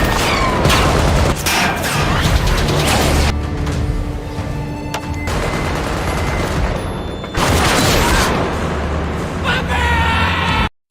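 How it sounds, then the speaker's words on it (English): A chaotic film shootout with loud, continuous bursts of gunfire and booming impacts layered over a dense score, with shouting voices mixed in throughout. "Kabil quickly orders his men to open fire."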